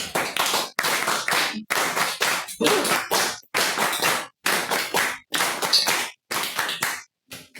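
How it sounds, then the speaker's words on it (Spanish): Rhythmic synchronized clapping from an audience at a lecture hall event, loud bursts of unison claps repeating in steady groups with brief gaps between them. "yo quiero que todos saludemos aquí con unas palmas revolucionarias"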